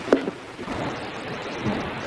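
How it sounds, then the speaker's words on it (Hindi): Steady cartoon rain pours over a rainforest, a constant wash of falling water with a couple of brief louder knocks near the start and no voices. "इस वर्षावन में तो बहुत ज्यादा बारिश होती है।"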